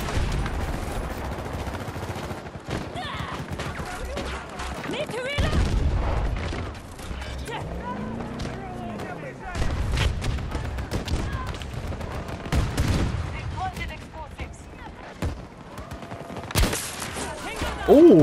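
Rapid gunfire and explosions in the first-person shooter video game Battlefield 2042 go on throughout, with repeated bursts and booms near and far, while a person talks over the action.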